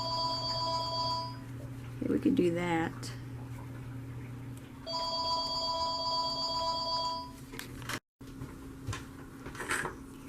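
An electronic home telephone rings for an incoming robocall, repeating in two long trilling bursts with a pause between, while someone briefly speaks in the room between the rings.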